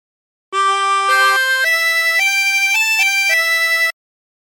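A chromatic harmonica plays a slow phrase of the hymn Be Thou My Vision, sustained reedy notes stepping up and down in a clear solo line, close and steady with no talking.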